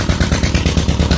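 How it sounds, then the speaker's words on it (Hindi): A heater engine runs loud and close in a village, a steady rhythmic mechanical chugging with clattering pulses repeating several times a second throughout. "माजरत ज़रा हीटर इंजन का शोर है"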